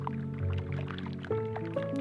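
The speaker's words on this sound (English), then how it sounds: "This constant clicking, popping noise that comes from collapsing air bubbles trapped inside the ice" Sea ice in a Svalbard fjord gives off a sparse, irregular series of soft clicks and pops as trapped air bubbles collapse, heard close and quiet over low tonal hums.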